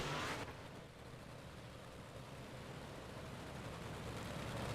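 Big block modified race cars roaring around the narrow Limaland speedway, a dense, steady engine drone sustained throughout, loudest at the very start and then holding at a continuous roar with no voices.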